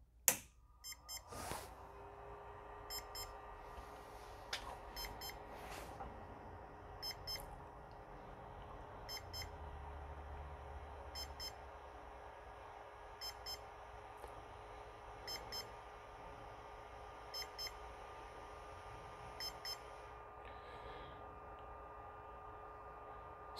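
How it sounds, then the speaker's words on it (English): A Tronxy 3D printer beeps during a firmware install, sending short, faint electronic beeps in a regular series of pairs over a steady low hum, with a louder click at the start. "So we had all our beeps."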